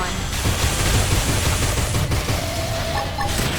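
Rapid gunfire in the video game Xenoblade Chronicles X, a dense continuous fusillade of shots mixed with battle noise and game music, loud and unbroken throughout.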